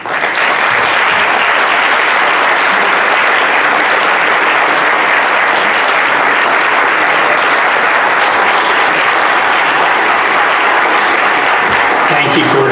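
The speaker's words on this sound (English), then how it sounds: "You always get the applause on the back end." Audience applause at a school board of education business meeting, loud sustained clapping from a full room that holds evenly for nearly thirteen seconds, with voices faintly underneath.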